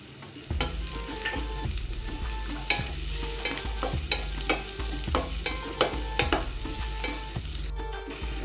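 Garlic and chopped onion fry in hot oil for a snake gourd peel bhorta, a steady sizzle with repeated scraping stir strokes at a regular rhythm, close and fairly loud throughout.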